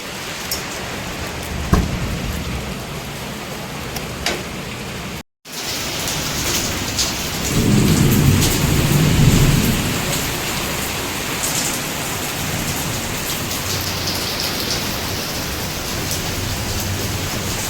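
Heavy rain pours steadily with a constant hiss and patter, briefly cutting out once, with a low rumble swelling partway through.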